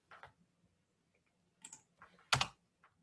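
Quiet, sparse clicks from a computer keyboard, a few light taps and then one firmer keypress like Enter, each sharp and close with near silence between.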